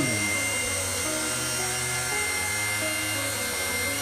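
A small RC helicopter hovers with a steady, high-pitched whining buzz of motor and rotor, loud and constant throughout.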